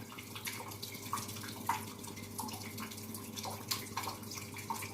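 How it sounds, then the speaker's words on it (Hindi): Steady running water pours continuously into a pot of rice for biryani at moderate volume, with a few brief splashes and drips standing out against the flow. "दो लीटर पानी डाल देंगे।"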